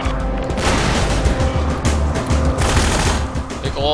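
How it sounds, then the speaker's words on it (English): Dense, loud gunfire rattles without a break during a firefight on the docks in the game Minerva: Metastasis, with rapid shots and booming impacts overlapping close by. "big ol' firefight out on the docks here"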